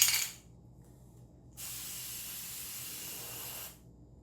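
Aerosol can of green hair color spray hissing in a short initial burst, then a steady, close spray lasting about two seconds before cutting off, with a quiet pause between bursts.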